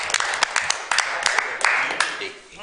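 Attendees at a city council meeting break into a burst of scattered hand clapping, crisp and fairly loud, lasting a couple of seconds and tapering off at the end.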